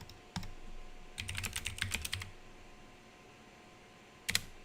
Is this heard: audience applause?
no